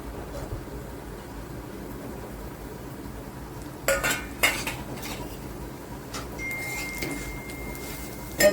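Grated coconut stirred in hot desi ghee in a pan for fried modak, with a few sharp spoon clinks and scrapes against the metal over a quiet background, growing a little busier toward the end.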